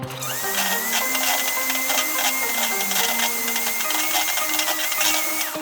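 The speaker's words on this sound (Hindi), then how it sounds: "बस अब इसे अच्छे तरीके से बीट करना है ये ताकि क्रीमी फॉर्म में आ जाए" An electric mixer beats cake batter with powdered sugar for a vanilla tea cake, whirring loud and close with a shifting motor pitch as the beaters churn steadily; no speech.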